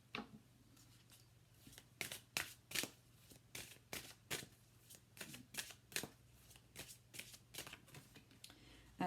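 Tarot cards are shuffled by hand in a quiet room, producing a series of crisp riffling flutters and soft slaps in an irregular rhythm, close and fairly faint.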